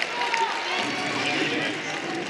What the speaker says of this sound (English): Home crowd.